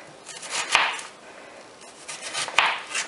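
A knife cuts crosswise through an onion on a board, two crisp, close chops spaced about two seconds apart over a light background rustle.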